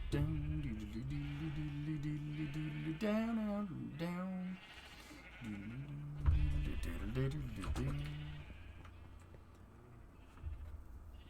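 Several Minecraft sheep bleat in wavering, drawn-out cries, one after another, fairly close and loud, with a quieter low background between calls.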